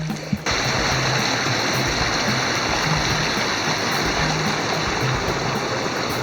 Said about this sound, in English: Waterfall on the trail.